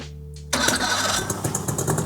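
An old Mercury two-stroke outboard, left sitting outside for five years, cranks after a low hum and catches, then runs with a loud, ragged, sputtering rhythm.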